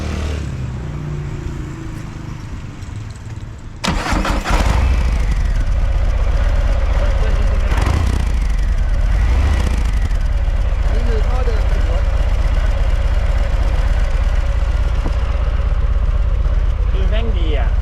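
A Harley-Davidson motorcycle engine cranks and fires at about four seconds, then settles into a loud, deep, steady idle rumble close by, with a faint voice heard before the start.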